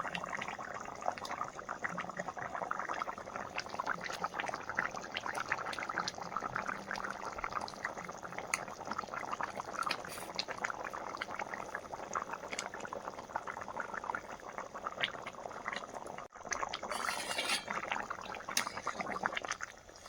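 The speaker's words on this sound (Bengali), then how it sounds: "মাংসটা দারুণ ফুটছে" Steady bubbling of a pot of duck meat boiling vigorously, a continuous wet gurgling that runs unbroken throughout, with no voices.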